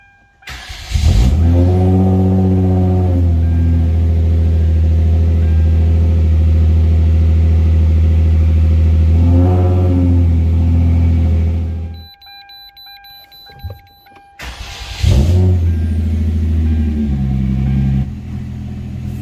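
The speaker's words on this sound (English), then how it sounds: "Let's go on the driver's seats and then we'll crank this up." A Hyundai Genesis Coupe 3.8 V6 with a newly installed starter cranks briefly and fires, settling into a loud, close steady idle with a small rev. It shuts off into a quiet pause, then restarts and idles again.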